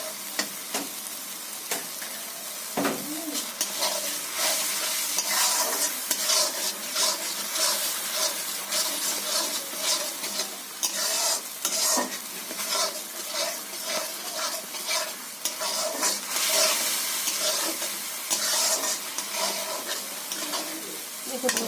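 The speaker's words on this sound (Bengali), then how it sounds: "আমি মশলাটা একটু কষে নেব।" Spice paste with a little turmeric fries in a pan, giving a continuous crackling sizzle broken by frequent scraping stirs at a steady, close and moderately loud level throughout.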